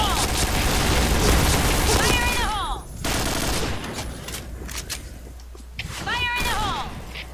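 A grenade goes off in a first-person shooter with a loud boom amid bursts of gunfire. Brief tonal sweeps and busy game noise fill the short stretch around it.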